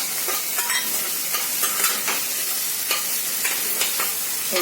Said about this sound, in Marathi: कांदा होत आला की त्यात टमाटर टाकायचे